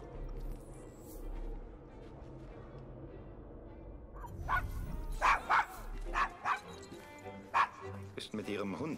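A dog barks in Assassin's Creed Syndicate, several sharp yips and barks in the second half, moderately close, over ambient game background, with a few spoken lines in between.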